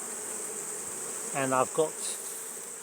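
Honeybees around an active overwintered hive with old, gappy supers, a steady high buzzing drone throughout, with someone speaking briefly over it partway through.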